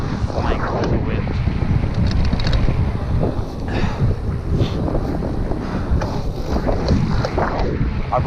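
Strong wind roars and buffets across the microphone outdoors on a ride, a loud continuous rumble with gusty swells and no clear talk.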